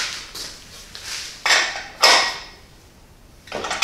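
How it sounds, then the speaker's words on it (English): A wrench turns the axle nuts on an electric bicycle's wheel a half turn per side, giving several short metallic scraping and ratcheting strokes that sound close and fairly loud. "Then I use a wrench and I do a half turn per side."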